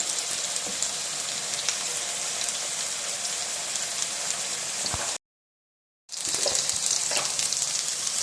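Cumin seeds sizzle steadily in hot oil in a pan, a dense, close crackling hiss that drops out briefly to silence and then resumes just as strong.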